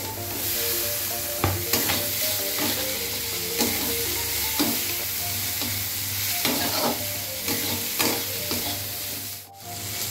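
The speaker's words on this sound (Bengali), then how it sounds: "পেঁয়াজ ভাজা ভাজা হচ্ছে আর মাছটা আমি ভেজে নিয়েছি" Onions fry in a pan for a bhola fish curry, a continuous close sizzle broken by regular scraping stirs of a utensil against the pan, with a brief drop near the end and no talk.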